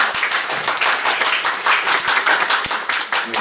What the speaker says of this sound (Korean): 교수님들 다시 한번 큰 박수 부탁드립니다.